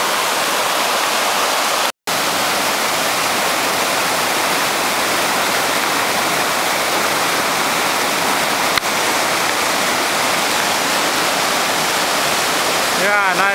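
A waterfall rushes as a loud, constant broadband roar, close and unbroken apart from a brief dropout, with no clear voices over it.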